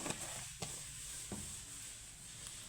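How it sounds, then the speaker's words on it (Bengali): Whole cumin sizzles in hot oil with a soft, constant hiss, broken by a few sharp crackling pops. "কড়াইতে আমি কিছুটা তেল অ্যাড করে দিয়েছি দিয়ে দিব ফোড়নে গোটা জিরে"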